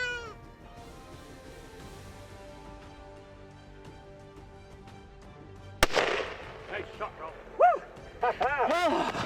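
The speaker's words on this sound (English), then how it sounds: "I had to wait till he stepped out, and I took the shot." A single loud rifle shot rings out during a black bear hunt on Vancouver Island, a sharp close crack partway through, followed by wavering, high, wailing cries and bursts of noise after a quieter stretch of background sound.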